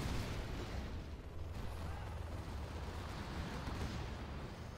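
Artillery fire in the real-time strategy game Command & Conquer Generals Zero Hour, a dense, continuous rumble of distant blasts and booms with no clear individual shots.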